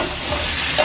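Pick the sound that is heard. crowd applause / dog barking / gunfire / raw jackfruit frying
raw jackfruit frying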